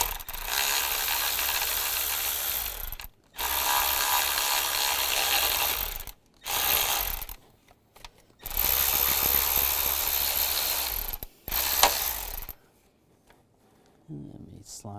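A socket ratchet with an E10 socket works a bolt loose on the valve cover of a 2003-2010 BMW X3, giving several long bursts of rapid clicking separated by short pauses, up close, with speech nearby.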